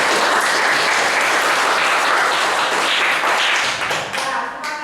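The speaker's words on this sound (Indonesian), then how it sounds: "terima kasih tepuk tangan untuk Meli anak" A classroom of students applauds a classmate with dense, steady clapping that continues and thins slightly toward the end.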